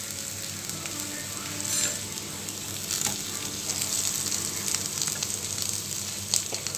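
Boiled potatoes cooking in a pan without oil, a continuous soft sizzle and crackle with occasional stirring scrapes, close and steady, with low background hum throughout.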